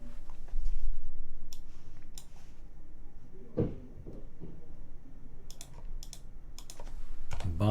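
Computer keyboard typing in irregular bursts of clicks and key taps, close and moderately loud, with a few heavier knocks mixed in.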